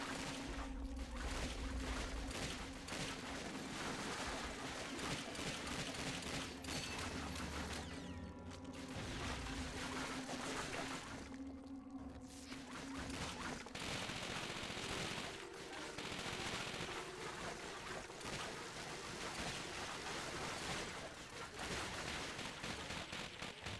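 Tommy gun bursts in the video game Call of Duty: Finest Hour, rapid automatic fire rattling in long loud runs throughout, mixed with other battle noise and with no talking.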